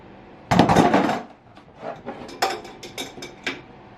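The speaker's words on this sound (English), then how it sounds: "I'm just loosening this return hose." A hydraulic return hose on a Steiner 430 transaxle is worked loose, giving a loud metallic clunk and rattle followed by several lighter taps and clicks of tool against fitting, close by with no speech.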